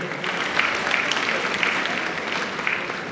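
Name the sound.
audience applause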